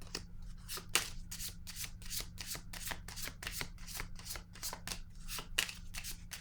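Oracle cards being shuffled by hand in a quick, even run of crisp riffling strokes, about two or three a second, close and clear over a low steady hum, with no talking.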